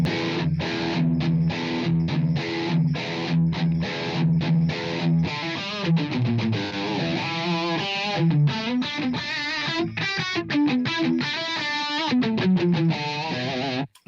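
An electric guitar played through a Corona chorus pedal and a Terra Echo delay pedal, loud and continuous, with strummed chords and melodic runs shimmering in chorus modulation and echo repeats.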